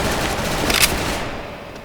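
AK74 rifle fire in the Special Force online shooter game: a dense rapid burst of automatic shots, loud and close, fading out toward the end.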